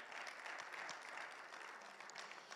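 A congregation at a Bible class on Daniel and Revelation applauds, faint and fairly distant, a steady patter of many hands with a few sharper individual claps standing out.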